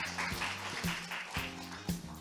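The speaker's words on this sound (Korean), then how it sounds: "큰 박수 부탁드립니다." An audience applauds at the opening ceremony of the 2023 KMI policy research results report, a steady wash of clapping with no voice, backed by low sustained music tones and a few soft thumps.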